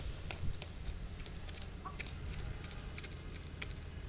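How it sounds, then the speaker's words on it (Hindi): Faint clucking from a rooster somewhere in the distance calling its hens, a few soft calls over quiet outdoor background noise. "मुर्गा जो है ना, मुर्गियों को बुला रहे"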